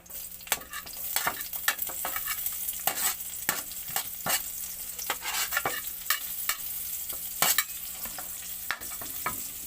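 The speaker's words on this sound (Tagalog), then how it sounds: "natin i-gigisa natin ng ating mga aromatics yan. Bawang. Sibuyas." Garlic and onion sautéing in a pan for sweet and sour tilapia, with a bright steady sizzle and frequent sharp scraping strokes of a spatula stirring, close and loud, no talking.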